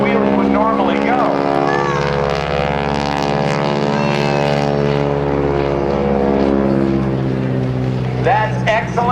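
A propeller aerobatic airplane at an airshow flies past with its landing gear extended for extra drag, a loud steady engine drone that holds strong throughout, rising slightly at the end.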